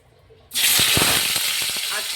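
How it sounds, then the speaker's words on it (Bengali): Koi fish (climbing perch) slid into hot oil in a wok that already holds a pinch of salt. A loud sizzle bursts in abruptly after a short quiet moment, then holds as a steady, crackling hiss with small pops. "এবারে দেখুন তেল আস্তে আস্তে ছাড়বো আমার মাছগুলো"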